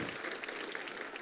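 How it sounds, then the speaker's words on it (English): Faint, brief burst of audience applause at a live event honoring a friend, a soft, even patter of many hands at a distance with no break. "Let's give him a round of applause"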